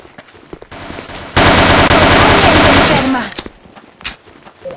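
Bursts of automatic gunfire in a shooter video game, a loud rapid machine-gun stream lasting about two seconds with a brief break, followed by scattered fainter shots and low voices.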